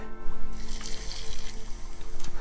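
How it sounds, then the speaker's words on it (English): Water pours and splashes close by in a continuous stream onto a campfire, with a soft sizzling hiss under the pouring. "we're going to go into the loch and put this fire out with a little bit of water"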